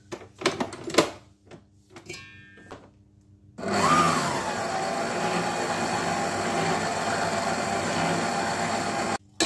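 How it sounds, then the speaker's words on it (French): A stand mixer starts up and whirs steadily, mixing flour and salt in its bowl for bread dough, loud and continuous for several seconds after a few light clinks and knocks, then cuts off. "dans la cuve de mon batteur j'ajoute la farine, le sel. Je vais venir mélanger un petit peu."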